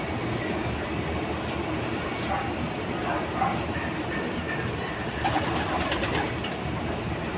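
Racing pigeons in a loft, their bird calls and cooing rising now and then from a dense, steady wash of background noise.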